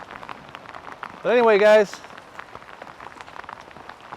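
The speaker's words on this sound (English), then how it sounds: "It's still drizzling out here" Light rain drizzles outdoors by a barbecue pit, a steady soft patter of drops on surfaces throughout, with someone speaking briefly over it near the middle.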